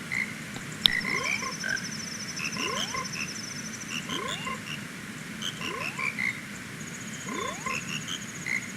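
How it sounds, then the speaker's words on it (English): A chorus of frogs from the Zelda: Majora's Mask video game, croaking in a steady repeating pattern with gliding, bubbly calls over soft game music, no talk. "we'll reunite to this whole frog choir because it's a frog choir"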